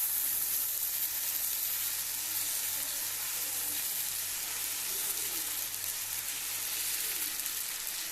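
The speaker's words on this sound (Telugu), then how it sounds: "దోశ తిప్పేటప్పుడు ఒక 2 చెంచాలు దోశ పిండి మధ్యలోకి వేసి బాగా గుండ్రంగా తిప్పుకోవాలి" Dosa batter sizzles on a hot pan as it is spread into a round, Rayalaseema style, a steady, close, bright hiss that holds evenly throughout with no talking.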